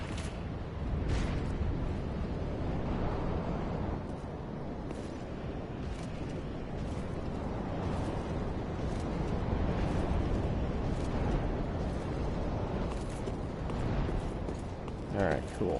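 Roaring fire blast from a dragon in Dark Souls 3, a dense continuous rumble with crackling bursts that holds steady and loud throughout, with a voice speaking over it.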